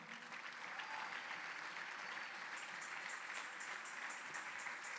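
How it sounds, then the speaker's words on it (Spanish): Church congregation applauding during a Spanish-language sermon, a steady, fairly faint wash of clapping that holds evenly throughout. "Den un aplauso al Señor."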